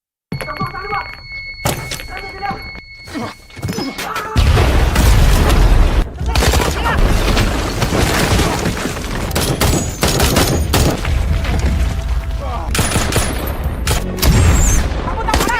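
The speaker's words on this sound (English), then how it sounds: "Abu Sayyaf responds with RPG attacks, which strike the team" Gunfire and rocket-propelled grenade explosions in a movie attack scene by Abu Sayyaf fighters on a team, with dense, loud booms and bursts that build into a continuous roar after a quieter, choppy start.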